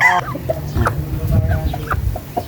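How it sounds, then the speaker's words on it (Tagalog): A hen clucks in a chicken coop, a series of short, close, fairly loud clucks in an irregular rhythm. "Inahin din to."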